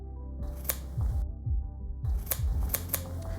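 Scissors snip through macrame cord behind a row of double half hitches on a beaded half-mandala wall hanging, giving several sharp close cuts in quick succession with handling noise between them.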